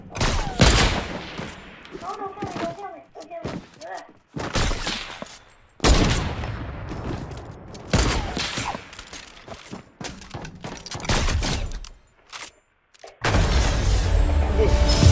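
Sniper fire in a first-person video game map: loud booming shots and bursts of gunfire in rapid clusters, separated by short gaps, close and punchy, with a heavy blast near the end.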